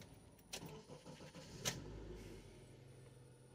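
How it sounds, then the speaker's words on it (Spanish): A car engine cranks briefly and catches during an oxygen sensor test, recorded close and fairly quietly with a short burst of starter noise and then a steady low running tone. "Vamos a darle marcha"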